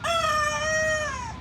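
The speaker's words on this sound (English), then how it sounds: "y'all see that the chicken coop is locked up, and we got chickens still in there" A rooster crows once from inside a locked chicken coop, a clear, loud, drawn-out cock-a-doodle-doo heard close with no talking.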